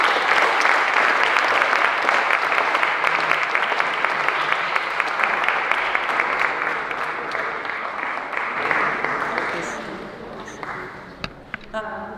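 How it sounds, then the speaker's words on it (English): Loud, sustained audience applause at a school pinning ceremony at St. Dememtrios, steady clapping for about nine seconds before thinning into a few scattered claps near the end. "a round of applause for Ms."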